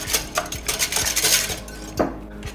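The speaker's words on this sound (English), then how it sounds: "I'm just gonna mix this together first." Milk and buttermilk are whisked together in a bowl, with quick repeated clinks and scrapes of the utensil against the bowl, steady and close, no talking.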